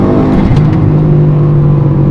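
A 2006 Subaru WRX turbo four-cylinder engine hums and revs loudly close by, a steady throaty drone with slight pitch changes and no talking.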